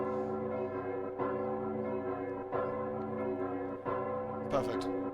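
Church bells ring in the video game Nier Automata, repeated tolls with long sustained ringing over an even background, sounding clear and fairly close.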